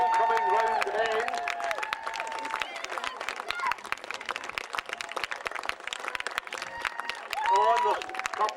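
Spectators at the St Andrews Highland Games cheer and clap for runners finishing a race, a broad outdoor crowd noise with scattered claps, heard under loud public-address commentary.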